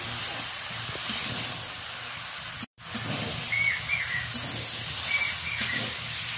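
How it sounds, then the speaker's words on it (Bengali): Vegetables and tomato sizzle steadily in a hot cooking pan while being stirred for a sour tomato dish, a continuous close hiss with faint scraping and one brief dropout. "টমেটোটা দিয়ে দিলাম, ভালো করে নাড়াচাড়া করে নিচ্ছি।"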